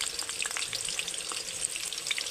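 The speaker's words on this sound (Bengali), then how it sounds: "তো আলুগুলো এদিকে ভাজা হতে থাক" Cut potatoes with salt and turmeric frying in oil, a dense, even crackling sizzle at moderate level with light stirring throughout.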